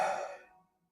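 A person exhales in a single breathy sigh, loud at first and fading out within about half a second, voicing a breath meant to imitate the pronunciation of the divine name.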